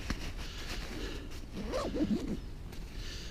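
The zip on a backpack's zip pocket is pulled open in a quick rasping run of teeth, close by and fairly quiet against faint background noise.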